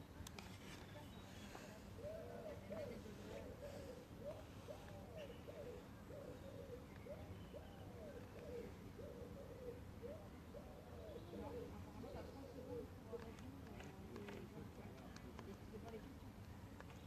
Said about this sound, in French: Vous entendez peut-être les oiseaux de temps en temps.